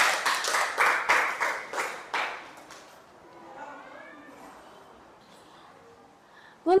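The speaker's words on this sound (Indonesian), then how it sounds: "beri tepuk tangan untuk Putri." A classroom of children claps in a quick burst of applause that fades after a few seconds. A voice and faint chatter follow, then a sharp clap sound at the very end.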